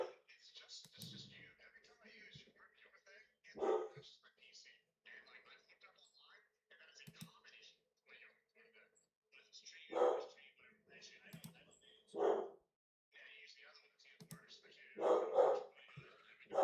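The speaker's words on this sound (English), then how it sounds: "dogs, would you shut the fuck up, please?" Several dogs bark in short loud bursts, scattered across the clip with gaps between them, mixed with faint clicks and low background noise.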